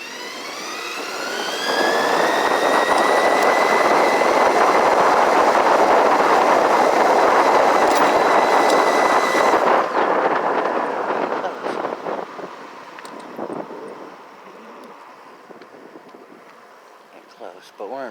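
A CYC X1 Pro mid-drive e-bike motor, run sensorless, whines loudly and rises in pitch under steady wind rush, then drops off sharply as the drive note fades into quieter riding noise.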